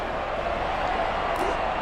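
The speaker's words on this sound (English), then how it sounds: "Crowd enjoyed that tackle." A stadium crowd in a rugby video game roars after a tackle during an England versus New Zealand match, a dense, steady wash of distant cheering with a brief sharp accent near the end.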